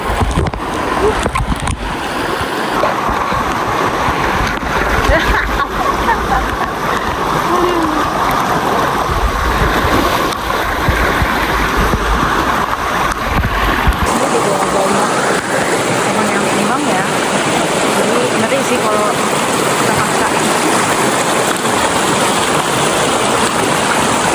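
A river streams along a hiking trail toward the Curug Cisadane waterfall, a loud, constant close rush of flowing water throughout, with people talking over it.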